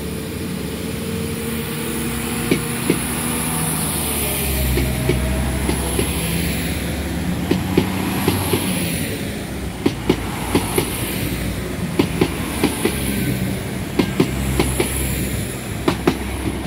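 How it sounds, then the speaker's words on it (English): Diesel train 4016 pulls away from Antrim station after a delayed departure. A steady rumble builds under repeated clickety-clack wheel beats and brief squeals as it rolls off, with no talk. "There goes 416, which departed on its second attempt."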